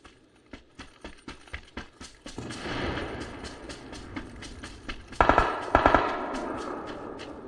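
Gunfire in PUBG: a rapid run of sharp automatic shots, evenly spaced, then a louder dense burst with heavier booms toward the end, all at close range.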